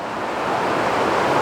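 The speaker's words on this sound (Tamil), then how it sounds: "இதான் வந்து வாட்டர் ஃபால் வியூ." Ravana waterfall in Sri Lanka heard from a viewpoint: a steady, dense rush of falling water, constant and fairly loud, with no voices over it.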